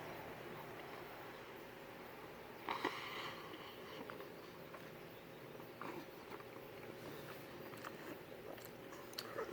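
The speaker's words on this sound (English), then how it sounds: "A lot of chewing." Someone chews a mouthful of gummy candies, Snoopy shapes, gummy bears and a gummy worm, with soft, close, wet chewing and a few sharper bites and sniffs spread over quiet stretches.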